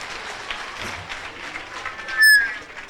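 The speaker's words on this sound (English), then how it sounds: "let's give him another clap because he stayed within the time" Dense applause from a crowd fills the room steadily at a university presentation, ending with a brief high-pitched electronic squeal.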